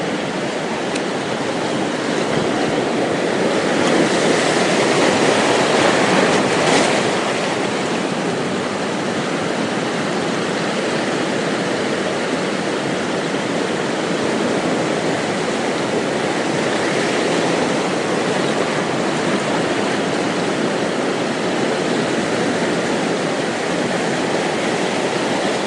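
Rough coastal water at Casiguran, Aurora, in the Philippines churns in a dense, unbroken roar of waves and surf, loud and steady throughout with no voices.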